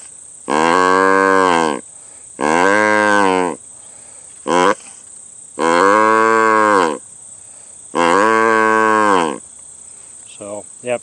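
A homemade squash bugle with its reed trimmed to between 1/8 and 1/16 inch, blown in four loud, sustained, nasal horn-like blasts about a second each, then a short toot and a couple of faint sputters at the end.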